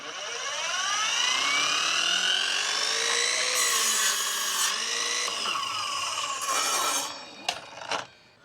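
A $200 budget Power Wheels miter saw spins up and bites through a board at a 45-degree angle, a loud sustained whining cut that shifts pitch mid-stroke, then winds down with a few sharp clunks at the end.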